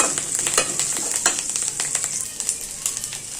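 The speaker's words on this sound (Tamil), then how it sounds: "கருவேப்பிலை, உளுத்தம்பருப்பு, கடலைப்பருப்பு, தேங்காய், காஞ்ச மிளகாய் எல்லாம் போட்டோம். நல்லா வறுபடட்டும்." Curry leaves, urad dal, chana dal, coconut and dried chillies roasting in a pan, a close crackling sizzle broken by sharp pops and repeated stirring scrapes, steady throughout without talk.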